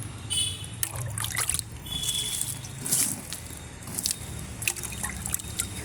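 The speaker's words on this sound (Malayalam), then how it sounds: "നമുക്കിത് കുറേശ്ശെ എല്ലാത്തിനും ഒഴിച്ചു കൊടുക്കാം" Liquid fenugreek fertilizer poured in small amounts onto vegetable plants, a steady close trickle and drip with light splashes, with no talking.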